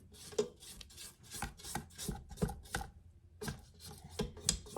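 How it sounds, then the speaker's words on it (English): Spatula scraping batter around a mixing bowl during baking, a rhythmic series of close rasping strokes, about a dozen in quick succession with a brief pause midway. "Just going to give a little scrape."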